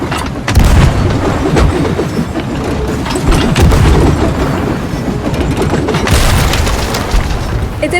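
Ship cannons firing in a naval battle video game. Heavy booms land repeatedly over a dense, loud, rumbling battle din that keeps going through the whole passage.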